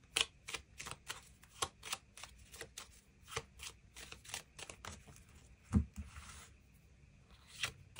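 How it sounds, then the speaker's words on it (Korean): Tarot cards being shuffled and drawn by hand, a close, quiet run of crisp riffling snaps and soft slides with one heavier tap near the end, and no voice. "일별로 월요일부터 일요일까지 어떤 하루하루를 보내게 될지 추가 카드 뽑아보도록 하겠습니다"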